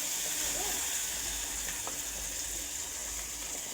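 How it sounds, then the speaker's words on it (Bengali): Ginger, garlic and onion paste fries in a hot pan with a continuous, even hiss of sizzling oil, close and steady throughout, with a faint scrape or two of stirring. "আদা রসুন পেঁয়াজ বাটাটা দিয়ে দিলাম"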